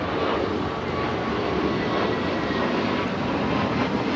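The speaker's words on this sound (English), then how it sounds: "It's an A321 Neo. American 12, 12807, our net doctor. 25 right before takeoff." An American Airlines Airbus A321neo jet sits at LAX before takeoff, its engines giving off a steady, continuous roar at close range with no pauses or voices.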